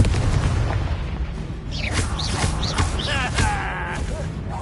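A Confringo fire spell goes off during a Hogwarts Legacy duel, a loud booming blast over continuous battle noise, with a voice shouting and bright whooshing magical effects ringing out afterward.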